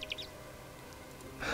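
A short burst of high, quick bird chirps opens this moment in the game European Mystery: Scent of Desire, a few light tweets close together, then quiet game ambience with a soft swell at the end.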